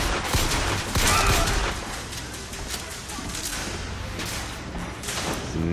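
Gunfire in BioShock Infinite on Xbox 360, PS3 or PC: a dense, continuous stretch of shots with a loud burst near the start, sustained over game music and effects.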